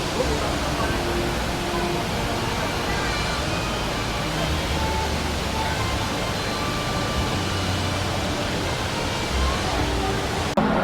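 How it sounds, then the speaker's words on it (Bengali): A large waterfall roars steadily at night, a dense, continuous rush of falling water that stays loud and unbroken throughout, with faint crowd murmur blended into the wash. "বিশাল বড় একটা ঝর্ণা"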